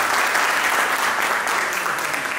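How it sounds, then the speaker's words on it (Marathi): Teachers at a school reunion for the 2007 tenth-grade class of Jijamata Vidyalaya, Sarati, receive a steady round of loud applause from the gathered crowd, with the clapping dense and sustained. "या शिक्षक वर्गासाठी एका सर्वांनी जोरदार टाळ्या वाजवा"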